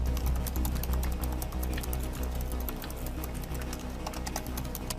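Fast, steady tapping of keys on a MacBook Pro's backlit chiclet-style keyboard, light clicks in a continuous rhythm, close up over a low background hum.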